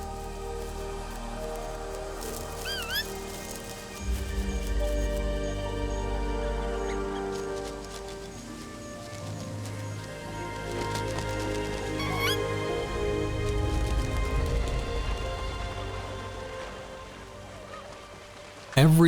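Egrets calling in a breeding colony on a rocky island in the Bohai Sea, with scattered squawks and chirps over a steady low rumble of wind or surf, continuing throughout.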